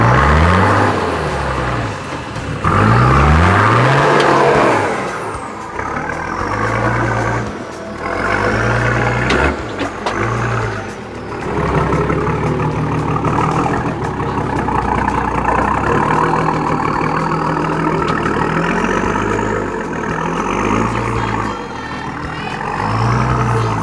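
A 4WD car's engine revs hard on a steep, rough mountain track climb in the Watagan Mountains. A loud, close, continuous roar rises and falls in repeated surges with no talking.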